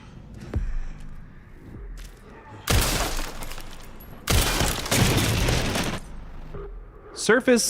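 Glass surfaces shatter under gunfire in a horror shooter game, two loud bursts of crashing, breaking glass amid scattered shots and quieter game noises, ending with a brief vocal cry.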